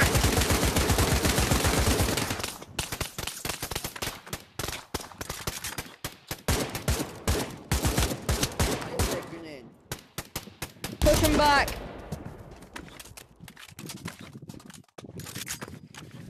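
AK rifle gunfire in the VR game Pavlov Shack: rapid automatic bursts and scattered shots, loud and dense at first, then intermittent.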